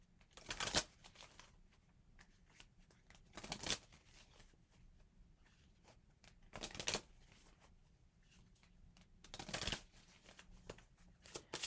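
Tarot cards are shuffled in four distinct bursts of riffling, each about a second long and close, separated by quiet pauses with light handling sounds.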